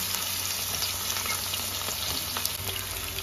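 Potatoes and eggplant fry in hot oil for a pumpkin-greens chorchori, a steady close sizzle and crackle running unbroken and loud for a few seconds with no voices.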